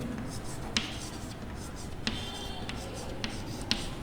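Marker or chalk strokes on a board during a chemistry lecture on amines, a few short scratchy taps and squeaks spaced through a quiet stretch with faint room noise.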